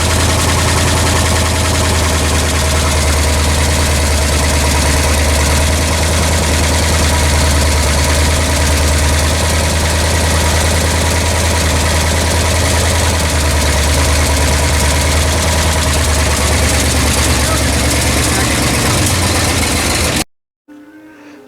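A 1960 Chrysler 300F engine idles steadily after long storage, a loud, continuous close-up rumble with a possible fuel filter or pump problem, then cuts off abruptly near the end.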